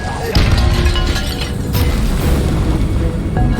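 An Incendio fire spell goes off in Hogwarts Legacy with a sudden loud whoosh and boom, then a sustained roaring burst of flame that holds steady for several seconds, with a second flare near the end.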